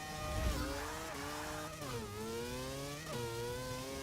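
A McLaren P1 engine screams through gears in a Forza 6 mile drag race, revving toward 9,000 rpm with rising whine, brief dips at each shift, steady and loud with no talk.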